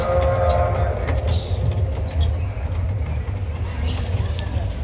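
A small amusement park ride train at Big Balloon Amusement Park in Sharjah rumbles along steadily and close by, with voices and crowd chatter over the running noise.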